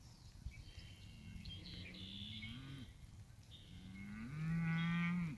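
A cow moos in two long, drawn-out calls, with the second louder and closer. Faint bird chirps sound in the background of a quiet outdoor setting.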